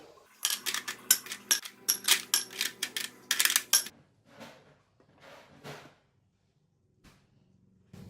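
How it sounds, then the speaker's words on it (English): A quick run of sharp clinks and rattles as ice cubes drop into two glasses, followed by a few softer, scattered clicks and then near silence. "I'm going to put the ice in."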